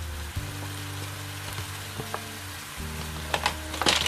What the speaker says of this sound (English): I'm going to add my mussels to that now.